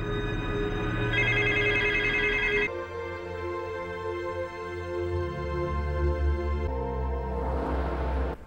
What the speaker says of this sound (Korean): 전화선이 뽑힌 채 울리는 전화벨